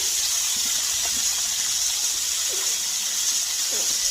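Salmon fries skin side down in a hot pan with a steady, even sizzle and hiss, accompanied by a few faint low knocks in the background.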